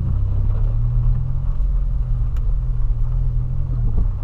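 A Volkswagen Polo drives through deep floodwater with its engine running hard, a loud, continuous low rumble and churn held steady throughout.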